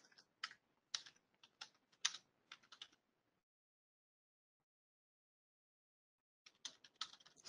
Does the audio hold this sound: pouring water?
no